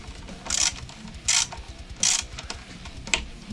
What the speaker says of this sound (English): So we have our socket wrench, and we're just going to tighten this down.